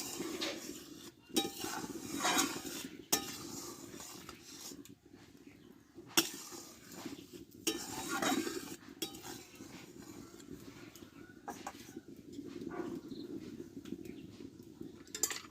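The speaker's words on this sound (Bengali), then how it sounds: "দুধটা ফুটছে এভাবে নাড়তে থাকতে নাহলে পড়ে যেতে পারে" A spoon scrapes and clinks against a pot while boiling milk is stirred, with steady rhythmic stirring strokes and soft bubbling in a home kitchen, close and moderately loud with brief pauses.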